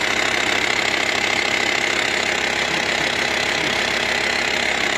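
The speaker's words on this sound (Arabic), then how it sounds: "على بالي صوت المحرك قوي" A Volkswagen Touareg engine with a faulty, noisy cooling fan runs loudly and steadily close by, a dense constant rumble with a rough knocking texture and no pauses.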